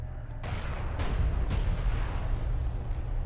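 A turret post blows up in the Deserts of Kharak strategy game, a deep booming blast with rumbling low-end debris that rolls on under continued battle noise, with a couple of sharper secondary bursts.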